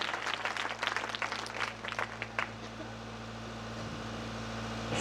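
Applause from an audience at an award ceremony honouring a top-ranking student, a dense patter of clapping for the first three seconds that thins out into a steady low hum.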